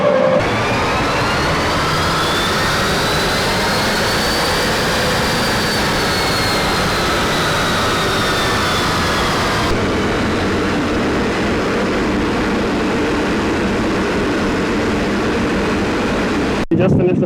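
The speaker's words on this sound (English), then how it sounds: "So the car's loaded up on the dyno and we are ready for our first run." Stock Skoda Octavia engine revving on a dyno, with a loud steady roar and a rising, falling whine held for about seventeen seconds before it cuts off abruptly.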